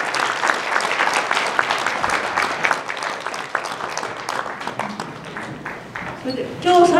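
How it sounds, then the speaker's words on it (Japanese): Audience applause thanking two guest lecturers at an indoor gathering in Japan's parliament building about Okinawa, a dense sustained clatter of many hands that thins toward the end, with a brief voice over it. "今日はお二人の講師の方に本当にありがとうございましたの拍手をよろしくお願いします。"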